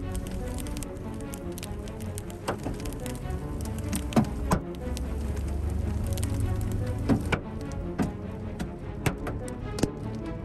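Golf-ball-sized hail pounds a pickup truck during a tornado-producing storm in Wyoming. A steady roar of falling ice is broken by scattered sharp, loud impacts on the vehicle, with no one speaking.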